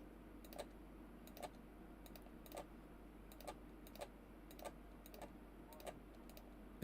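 Rapid clicking of a worn, broken computer keyboard being typed on, arriving in short bursts of clacks at a steady pace, close and fairly quiet over a faint background hum.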